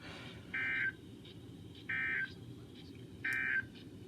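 Emergency Alert System attention tones announcing a severe thunderstorm watch: three identical steady two-tone bursts, each about a third of a second long and evenly spaced, sounding over a low background rumble.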